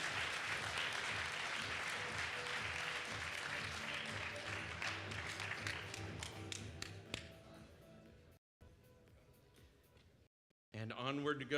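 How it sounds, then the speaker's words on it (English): A round of applause greets Carleton College, Central Division champions, at a programming contest closing ceremony, clapping dense at first, then thinning to scattered claps before a brief silence and a voice. "A big round of applause for Carleton College, the Central Division champions."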